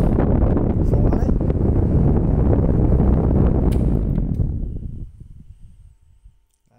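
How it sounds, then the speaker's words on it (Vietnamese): An old Japanese National electric fan runs hard, pushing a loud, steady roar of wind close to the mic, then winds down and fades after about five seconds. "Nghe gió như bão luôn."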